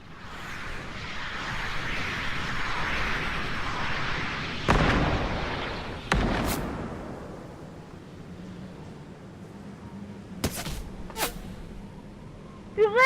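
Gunshots and explosive bursts go off in Fortnite, a few sharp loud cracks spaced over the clip against a steady rushing background, with no talk.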